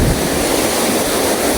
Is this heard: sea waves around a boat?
yes